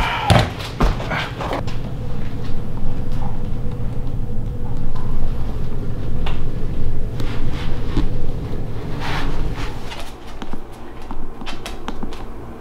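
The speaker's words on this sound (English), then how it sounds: "It's blowing air into my face." Air blowing steadily from a newly installed toe kick duct vent under a cabinet, a continuous broadband rush with wind-like buffeting on the microphone, a few knocks early on, and the flow easing toward the end.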